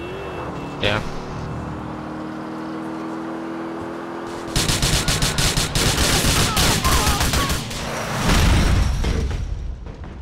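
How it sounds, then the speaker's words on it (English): Gunfire in the GTA IV video game, a cops-and-robbers chase on foot toward a boat house, starts as a dense, loud fusillade of rapid shots over a steady engine drone and continues to the end. "Shot"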